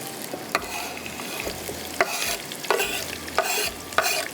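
Chopped onions frying lightly in oil in a pan for a khatti lauki tarka, giving a steady soft sizzle with intermittent scraping stirs and clinks of a spoon.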